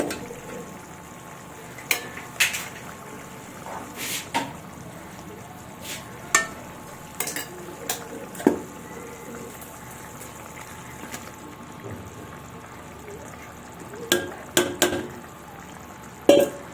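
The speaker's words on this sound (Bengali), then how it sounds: "এই মুহূর্তে আমি কিন্তু দিয়ে দেব ভেজে রাখা এই যে ঢ্যাঁড়সগুলো।" Pre-fried okra (ladies finger) is stirred into spiced oil for a curd-based curry, giving a soft, steady sizzle with scattered sharp spatters and scrapes of stirring, fairly close and without talk.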